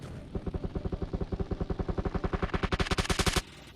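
Automatic gunfire in the video game PUBG Mobile, a long steady burst of about thirty rapid evenly spaced shots, loud and close, ending abruptly.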